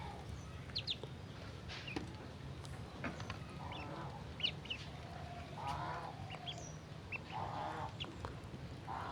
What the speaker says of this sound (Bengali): চীনা হাঁসের বাচ্চাগুলো খুবই ছোট, পাতি হাঁসের বাচ্চাগুলো বড়।